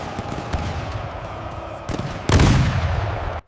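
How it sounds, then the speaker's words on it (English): Musket fire and cannon blasts at a Battle of Monmouth reenactment: scattered sharp cracks, then one loud heavy boom that lingers with a rumbling tail. "Smoke covered the fields as musket fire and cannon blasts continued across the battlefield."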